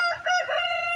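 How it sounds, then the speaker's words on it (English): A young rooster crows close by, a strained, warbling call with a bright harmonic tone that wavers through one continuous cry. "You can hear the young rooster. He's just making all kinds of noise."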